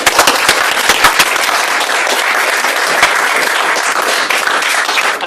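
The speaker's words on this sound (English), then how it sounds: "I think we should say a round of applause to Anne for that." An audience claps throughout at a housing digital awards ceremony. The applause is loud, dense and steady, with no voices over it.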